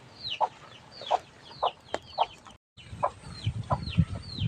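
Chickens cluck in repeated short calls, roughly one every half second, fairly close, with a brief silent gap partway through and some rustling and low thumps after it.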